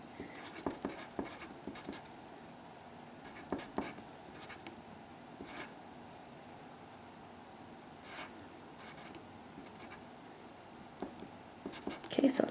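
Pencil or pen writing on paper: scattered scratchy strokes and taps at close range, mixed with soft whispered speech over a quiet room.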